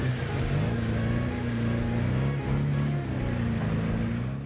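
Engine of an off-road vehicle reversing on a rough trail, a steady low idle-like rumble close by with faint regular clicks ticking over it.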